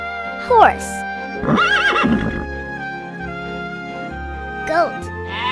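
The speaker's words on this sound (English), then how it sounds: "Horse." A horse whinnies loudly and close, with a second, shorter neigh a few seconds later, set against steady background music.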